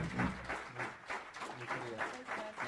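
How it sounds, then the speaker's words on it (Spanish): Faint, distant applause from an audience at a legal conference on Supreme Court jurisprudence, a soft pulsing patter of clapping that stays quiet throughout. "les voy a pedir un aplauso para el doctor Pulido"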